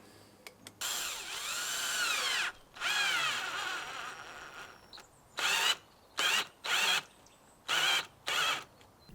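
A cordless drill drives a single screw into oak in bursts: two longer runs, then a series of short pulses with pauses between, close and fairly quiet.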